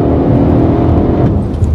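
Mercedes ML 63 AMG engine revving under way, a loud, dense rumble that holds steady through a brief moment of hard driving, with no voices.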